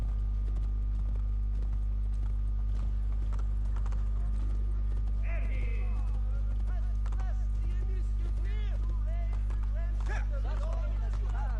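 Horse hooves clip-clopping at a slow pace in a video game, a steady rhythmic patter under a constant low electrical hum, with occasional faint voices and whinny-like sounds.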